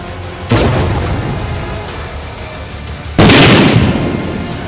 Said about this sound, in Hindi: क्रेमलिन के गुंबद के पास ड्रोन का धमाका हुआ।